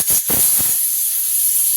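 Rice boils hard in a pot on the stove, giving a loud steamy hiss with a few bubbling bursts early on that settles into a steady hiss.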